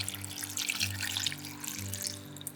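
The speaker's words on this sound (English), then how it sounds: "I added about half a can of water" Water runs into a pot of green beans with bacon, a steady splashing pour heard close up, continuous and fairly quiet over a low background hum.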